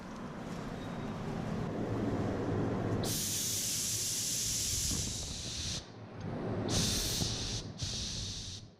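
Spray gun laying clear coat on a 2014 Toyota Camry in candy red pearl at about 20 psi: a loud, steady hissing blast over a low background rumble, in long bursts broken by two short pauses.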